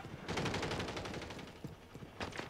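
Rapid bursts of automatic gunfire from a street firefight in the video game Call of Duty: Modern Warfare 3, loud, dense volleys with a few separate shots near the end and no speech.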